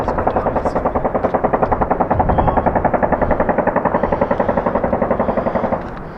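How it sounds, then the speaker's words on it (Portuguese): Rapid bursts of gunfire crackle in a dense, rolling stream at a distance in Syria, loud and continuous for several seconds with no pause before fading slightly at the end. "É final do dia e acabámos de ouvir tiros ao fundo."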